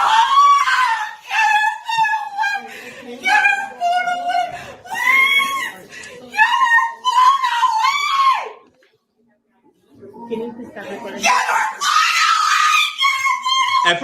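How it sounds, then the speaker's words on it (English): A woman screams loudly and repeatedly in a heated confrontation, long piercing wails with brief gaps and one short pause, up close. "she's screaming so damn loud"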